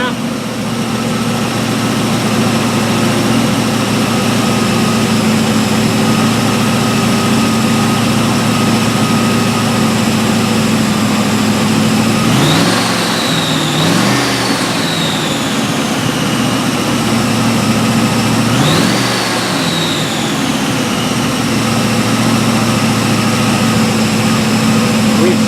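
A warmed-up car engine idles steadily with a constant low hum and drone, loud and close, with two short rising whine swells partway through and no talking.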